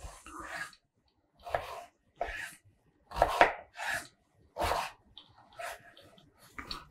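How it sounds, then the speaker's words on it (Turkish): Knife chopping celery into large cubes on a cutting board: about seven distinct, evenly spaced chops with brief pauses between them, close and clear, with no talking. "iri küpler halinde doğrayacağım ve göstereceğim size kalınlıklarını"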